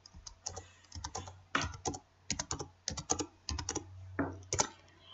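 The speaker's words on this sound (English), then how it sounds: "you type each letter, and after you type the letter, you hit the Enter key." Keys on a computer keyboard are typed in short clustered bursts with brief pauses, each letter followed by a separate keypress, crisp and close with no voices.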